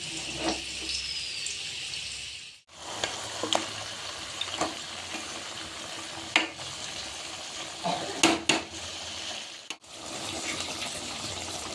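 Goat meat frying and sizzling in a pot for a thin Bengali mutton curry, a steady hiss with occasional stirring clinks and scrapes, fairly quiet and close.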